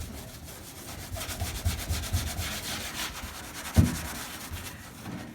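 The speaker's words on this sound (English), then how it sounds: "I'm using that scouring pad again." A scouring pad rubs over a car panel with peeling clear coat, giving a steady close scrubbing hiss in repeated strokes, with one sharper knock partway through.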